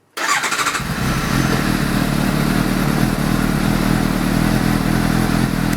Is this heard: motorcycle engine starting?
yes